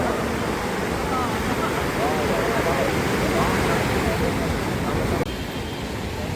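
Sea waves wash in at Puri beach with a continuous broad surf rush, loud and near, while faint voices and shore activity mingle in the background and the roar eases slightly near the end.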